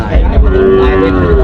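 A cow at a cattle market gives a single loud, close moo lasting the whole moment, with no talk over it.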